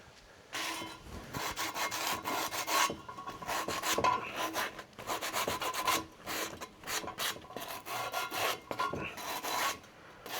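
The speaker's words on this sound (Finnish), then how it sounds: "Pyyhkästäänpäs tuolta vähän jollain hiomapaperille." Sandpaper rubbed by hand on a part while repairing a Mercedes, heard as close, brisk rasping strokes in an uneven rhythm with short pauses between bursts, loud and alone with no talking.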